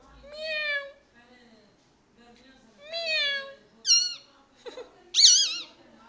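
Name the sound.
plum-headed parrot imitating a cat's meow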